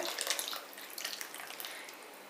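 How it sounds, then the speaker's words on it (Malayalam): Water is poured into a cooking pot in a home kitchen while a dish is being prepared. The splashing is soft and steady, with no voices. "ബാക്കി കുറച്ചും കൂടി വെള്ളം ചേർത്ത് ഇതിലേക്ക് ഒഴിച്ചു കൊടുക്കാം"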